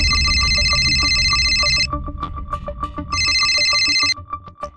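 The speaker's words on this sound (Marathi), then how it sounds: "अहो वृंदाताईचा फोन आहे" A telephone rings loudly in a home, two long bursts of electronic bell tone separated by a short pause, with faint clatter between rings and no talking.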